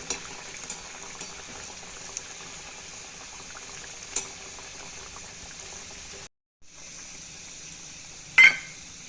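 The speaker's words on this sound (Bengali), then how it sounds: "এইভাবে তেলে ছেড়ে দিলাম। এবার সুন্দর করে এটাকে লাল লাল করে ভাজবো" A mini Mughlai paratha with egg frying in hot oil, a soft continuous bubbling sizzle that drops out briefly near the end, followed by a sharp clink.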